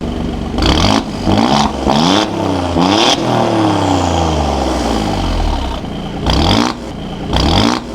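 A 2017 Alfa Romeo Giulia Quadrifoglio with a factory valved exhaust revs hard in race mode, loud and close: several sharp blips, then a long rising and falling rev, then two more quick blips.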